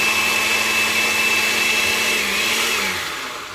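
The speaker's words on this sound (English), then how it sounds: "Throw that baby in the blender" A blender whirs loud and steady, crushing frozen watermelon with lime into a drink, the motor droning close by and easing down near the end.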